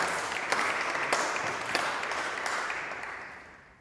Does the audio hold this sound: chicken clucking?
no